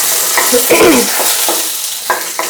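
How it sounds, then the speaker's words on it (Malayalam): Dried red chillies and curry leaves frying in a pan for a Kerala cucumber thoran, with a steady sizzle, a few stirring scrapes and short clinks up close. "ഇതിലേക്ക് വറ്റൽ മുളകും കറിവേപ്പില് ഇതെല്ലാം വരട്ടാം"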